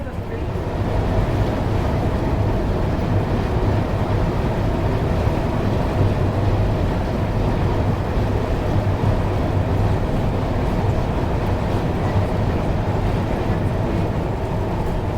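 Howrah–Puri Shatabdi Express running at speed near its 130 km/h top speed, a steady dense rumble of wheels and carriage noise with constant wind roar, unbroken and loud throughout.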